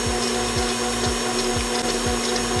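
A mixer whips egg whites at medium-high speed for Italian meringue, a loud, steady motorized whir with a rhythmic pulsing beat repeating roughly every half second, close up and unbroken.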